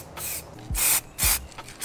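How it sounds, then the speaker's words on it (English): Two close, loud hissing bursts of spray primer from an aerosol can being applied to a Honda Civic, each lasting about a quarter second, with fainter hiss between them and no talking. "So now we're gonna primer this up."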